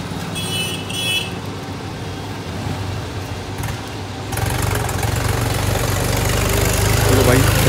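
A tractor engine idles at a petrol pump, a steady low rumble that grows louder and nearer partway through, with someone talking over it at first.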